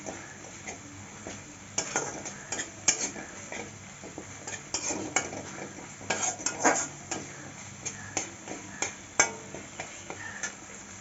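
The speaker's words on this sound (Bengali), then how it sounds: "দিয়ে এখন ভালো করে কষিয়ে নেবো" Spices with turmeric and salt are stirred and fried in a pan for cauliflower stem chorchori, giving repeated scraping clinks of a utensil against the pan over a low, steady sizzle.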